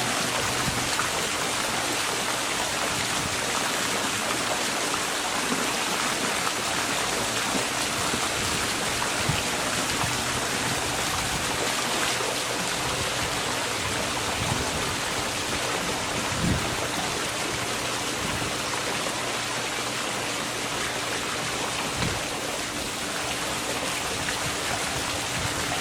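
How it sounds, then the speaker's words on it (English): Water gushes steadily from a swimming pool return jet during pool opening, a constant broadband rushing and splashing that holds even and unbroken for the whole stretch, close by and with no voices. "water should come out more fiercely from that jet"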